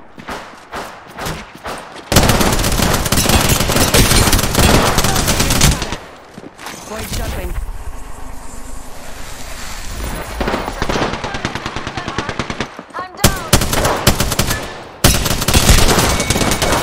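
Automatic gunfire in the Apex Legends video game: loud sustained bursts of rapid shots, close and dense, broken by brief pauses and a quieter stretch of game sounds, with a faint voice under it.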